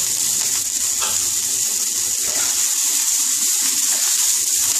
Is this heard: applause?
no